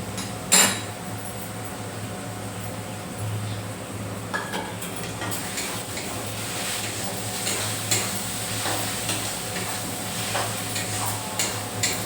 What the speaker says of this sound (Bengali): এবার আমি দিয়ে দেবো হলুদের গুঁড়ো, ধনের গুঁড়ো আর জিরের গুঁড়ো। দিয়ে আবার ভালো করে কষিয়ে নেবো।